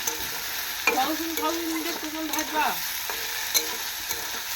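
Potato pieces sizzle in a pan while being stirred, a close crackle of frying under repeated spatula scrapes and a few sharper metallic knocks, with no voices.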